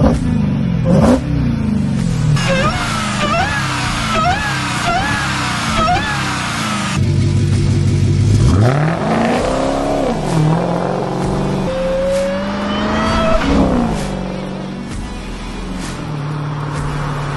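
A Dodge Challenger SRT Hellcat engine revs hard and accelerates through repeated gear changes, loud rising and falling roars with sharp upshift dips, heard close from inside the car on a track.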